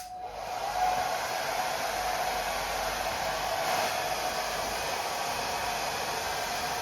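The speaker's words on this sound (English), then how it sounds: "use the hairdryer. So what we want to do is place the hairdryer 10 centimeters away from the animal hide" A hairdryer blows steadily at close range onto the animal-hide head of a thunder drum, a continuous loud airy whoosh with a faint whine that holds unchanged for several seconds, with no talking.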